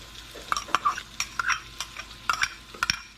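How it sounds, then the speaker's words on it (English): Ginger root sizzles in preheated oil while a spoon stirs it, with a soft crackle underneath and short scraping clinks repeating at an irregular rhythm, close and moderately quiet. "See, it sizzles."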